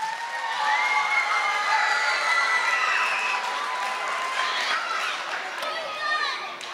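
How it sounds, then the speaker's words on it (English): Audience at an elementary school spring concert applauds the second grade students, sustained clapping mixed with cheering and children's high voices chattering throughout. "let's give an equally warm round of applause to our second grade students"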